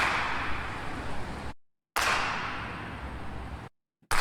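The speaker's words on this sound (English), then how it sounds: "So there's 3 claps in a row." Three separate hand claps sound in a row, close and fairly noisy, each a broad burst with a decaying roomy tail, the third cut short, with no voices.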